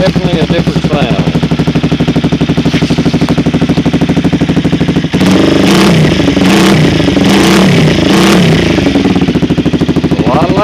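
A Honda CBR 250R motorcycle fitted with a Danmoto conical muffler and its catalytic converter removed idles with a loud, close, even exhaust pulse, then sharply revs in several quick throttle blips halfway through before settling back.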